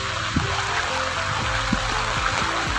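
Dirty drain water flows in steadily by a school gate, a continuous trickling, gurgling wash of liquid with small splashes, close and filling the whole scene.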